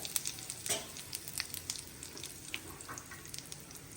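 Mustard seeds, cumin and asafoetida sizzle in hot oil for a tempering, a soft continuous crackle with scattered sharp pops and spatters, close and fairly quiet.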